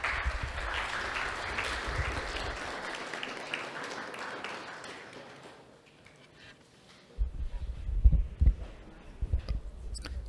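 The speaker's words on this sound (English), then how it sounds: "let us give a round of applause again for His Grace Ram Vijay Prabhu." An audience at a live spiritual talk in San Francisco claps. The applause is moderately loud at first and fades away over about five seconds, followed by scattered low thumps and handling noises.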